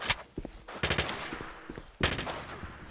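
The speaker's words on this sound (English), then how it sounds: "Who are you shooting at?" Gunfire in the video game STALKER: Shadow of Chernobyl, loud close bursts of automatic shots with short pauses and a sharp renewed volley near the end, without any talking.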